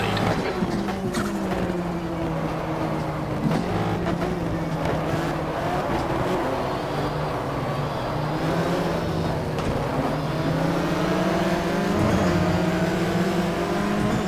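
Race cars in the GTR 2 game roar continuously, a Corvette running close behind; engine notes rise and fall with gear changes across a loud, sustained pack sound, with faint commentary underneath.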